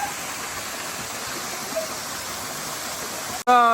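Steady, broad rush of Vilangad waterfall in Vadakara, Kerala, filling the whole stretch, constant and fairly close, cut by a sudden brief gap near the end.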